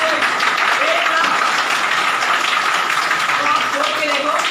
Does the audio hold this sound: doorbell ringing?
no